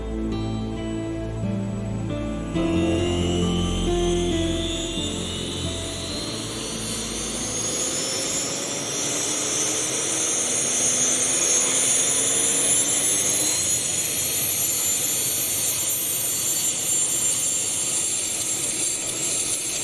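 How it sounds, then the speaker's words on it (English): A twin-rotor Chinook military helicopter, a loud sustained turbine whine with a rising pitch sweep and rumbling rotor wash, building to a steady near roar after a brief low start. "the twin-rotored Chinook has been in service since the Vietnam War in 1972"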